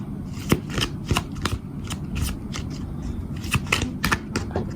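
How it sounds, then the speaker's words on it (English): A deck of oracle cards gets shuffled by hand, close up, with repeated crisp riffling and slapping bursts at an uneven rhythm, fairly quiet, with no talk. "Let me get another oracle card for my pile twos."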